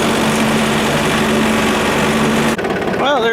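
A John Deere 2720 compact tractor engine runs loud and steady with a droning hum, then the pitch shifts and a voice is heard briefly near the end.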